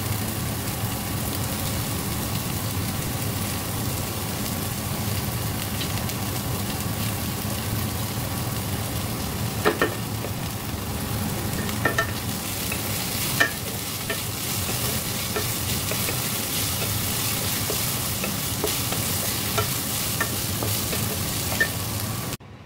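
Carrots, beans, potatoes and onions with garlic and chopped green chilli frying in a pan, giving a loud, continuous crackling sizzle with scattered sharp pops and a few light clinks of stirring.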